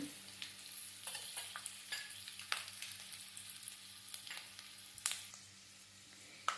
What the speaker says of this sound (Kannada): ಸ್ವಲ್ಪ ಎಣ್ಣೆಯಲ್ಲಿ ಹಾಕಿ ಫ್ರೈ ಮಾಡಬೇಕು, ಚೆನ್ನಾಗಿರುತ್ತೆ.